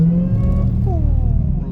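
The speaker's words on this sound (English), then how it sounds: "how much engine power you're using actually when you hit" A supercharged 6.2-litre V8 HEMI engine in a 717 hp Hellcat revs loudly and close, a steady deep roar with rising and falling pitch over less than two seconds, with no talking.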